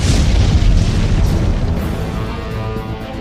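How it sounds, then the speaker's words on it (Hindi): A deep, rumbling bomb blast in Ahmedabad rolls out and lingers, a heavy low roar that slowly fades over a few seconds with no voices. "पहला धमाका।"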